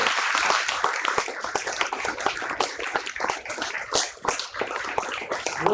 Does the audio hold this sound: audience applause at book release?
yes